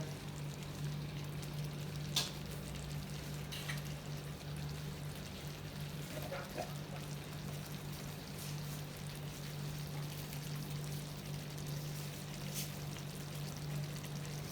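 Chicken varuval fries in a pan while being stirred until its water cooks off, giving a faint, even sizzle over a low steady hum. Occasional soft scrapes break through.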